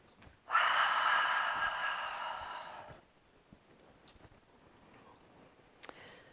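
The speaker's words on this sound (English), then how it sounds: "Cleansing breath." A long, audible cleansing exhale during a yoga session, breathy and close for about two and a half seconds, followed by quiet room sound.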